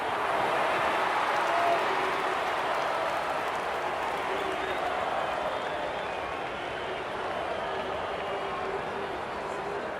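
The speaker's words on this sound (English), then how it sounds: "The crowd noise tells you all you need to know." A stadium crowd in the AFL 26 video game roars steadily through a simulated Geelong vs Brisbane grand final, forming a dense, continuous wall of cheering that stays loud and unbroken throughout.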